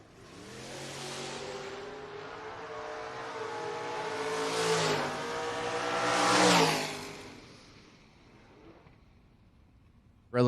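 Mustang drag cars launch at a footbrake drag racing event, loud close engine roar with climbing revs and gear changes, swelling twice before fading into the distance down the track.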